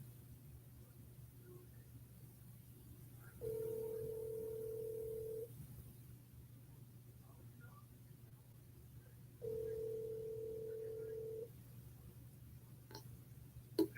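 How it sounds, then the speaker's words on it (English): A telephone call rings out twice with long, steady electronic ringback tones, each about two seconds, separated by a quiet pause over a low background hum, before an automated voicemail system picks up. "Your call has been forwarded to an automatic voice message system"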